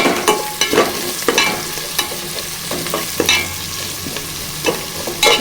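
Curry leaves and a dried red chilli fry in a pan with a steady sizzle, punctuated by repeated clinks and scrapes of a spoon stirring.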